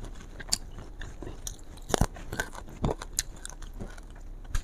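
Salted fish is crunched and chewed close to the mic, with irregular crisp bites and soft crackles spaced through a quiet background and no talk.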